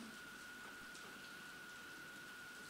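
Rain falls steadily, a soft, even hiss of drops on a surface with a faint tonal hum running underneath, quiet and continuous throughout.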